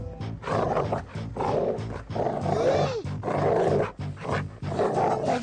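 A dog growls and snarls loudly and continuously in a film scene, with rough, roaring bursts that rise and fall in a steady run and pause briefly between outbursts.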